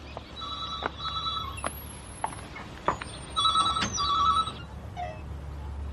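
A telephone rings in a roadside call box in repeated double trills with short gaps between them, fairly close and clear against a low background hum.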